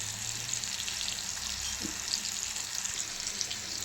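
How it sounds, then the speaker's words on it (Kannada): Fish frying in oil, a steady, even sizzle with faint crackles throughout, moderately quiet and unbroken. "ಇವು ಫ್ರೈ ಆಗಲಿ ರೀ"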